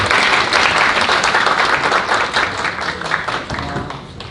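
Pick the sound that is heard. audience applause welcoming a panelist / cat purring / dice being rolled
audience applause welcoming a panelist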